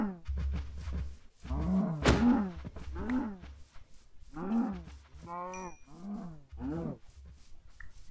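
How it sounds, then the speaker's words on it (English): Cattle moo repeatedly in the Minecraft video game while exploring a dark forest biome, a series of loud, drawn-out lowing calls separated by short pauses, close by and without talk. "Oh, cows."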